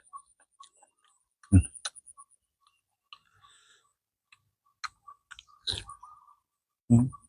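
Someone bites and chews tender boiled goat head served with a seafood dipping sauce, giving sparse, sharp, close crunches and clicks between quiet pauses.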